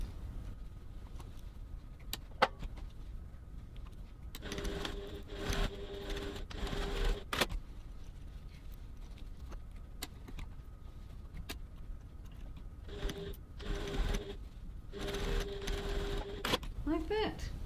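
A domestic sewing machine stitches the lining seams of a crossbody bag in two bursts of rapid, steady whirring, each several seconds long, separated by quieter handling clicks while a person talks throughout.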